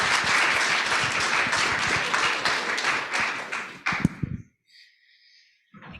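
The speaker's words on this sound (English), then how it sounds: "Round of applause." A conference audience gives a dense round of applause for about four seconds. The clapping then stops abruptly into near silence with a faint high tone.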